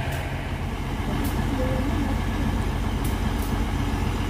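A train rolls into Ciawi station at night with a steady, loud rumble of wheels and engine throughout, and a faint tonal hum rising briefly above it.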